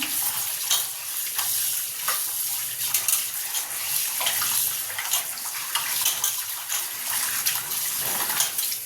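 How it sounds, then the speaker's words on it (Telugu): Raw chicken pieces are washed by hand with salt and water in a bowl, giving continuous close splashing, sloshing and squelching with a rhythmic churning, loud and alone. "ఉప్పు వేసి కడుగుదాం కొంచెం."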